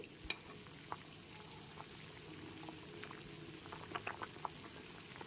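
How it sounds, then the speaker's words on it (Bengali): Two green mangoes simmer in a pot of water for aam panna, a faint, steady bubbling with small scattered pops and gurgles, quiet and close, with no one speaking. "দুটো আম যতক্ষণ না পর্যন্ত সেদ্ধ হচ্ছে ততক্ষণ পর্যন্ত অপেক্ষা করব"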